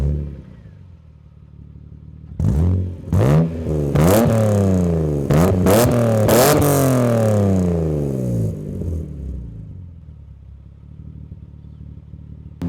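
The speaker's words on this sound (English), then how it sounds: "the sound of this engine is phenomenal" A BMW Z3M Roadster engine revs hard in several rising sweeps, each climb ending in a sharp drop, loud and close with no talking, then settling back to a steady idle.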